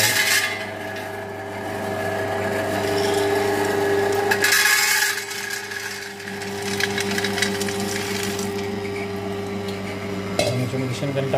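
An oil expeller machine, heated to 280 degrees, presses peanuts with a steady mechanical hum and grinding whir. Its tone stays constant at close range, with a brief scraping surge near the middle.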